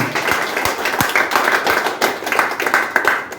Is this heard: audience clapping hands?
yes